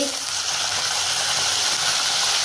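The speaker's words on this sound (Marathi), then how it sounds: "आता आपण हे तेल गरम झालंय, तेलामध्ये मटार टाकू, फ्लावर, बटाटे" Peas, cauliflower and potatoes hit hot oil in a pan, giving a loud, steady hissing sizzle that runs close and unbroken throughout.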